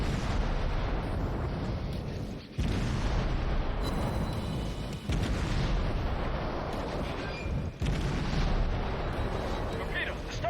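A barrage of shells explodes in World of Warships, from a US premium cruiser Atlanta battle: dense, continuous booming rumble with overlapping blasts and brief dips between waves. A voice can be heard faintly under the din.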